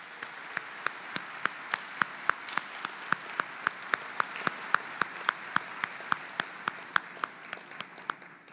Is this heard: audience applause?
yes